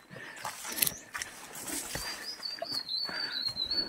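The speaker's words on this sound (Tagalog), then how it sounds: "pakinggan yung mga huni ng ibon" Birds chirp and whistle intermittently from nearby trees on a mountain trail at Mount Sicapoo, Ilocos Norte, including a thin high call near the end, against quiet outdoor background.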